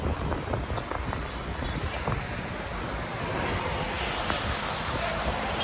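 Steady wind buffets the microphone with a constant rushing roar at Manila Bay's Dolomite Beach on a hot day, mixed with surf-like noise and indistinct voices underneath.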